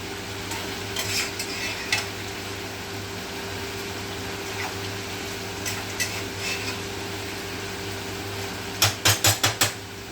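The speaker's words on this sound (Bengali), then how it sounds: "এরকম করে বারবার ঢাকা দিয়ে যতক্ষণ নয় জলটা একদম গায়ে হয়ে যাচ্ছে গা মাখা গা মাখা হয়ে যাচ্ছে ততক্ষণ আমি এরকম কষাতে থাকবো" Chicken curry is stirred and sautéed in a covered pot, the lid coming off again and again: a steady low sizzle with scattered scrapes, then a quick run of sharp metallic clanks near the end.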